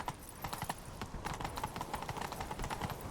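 Rapid clip-clop of galloping horse hooves in The Witcher 3: Wild Hunt video game, steady and close, with a brief whinny-like rise partway through and no talking.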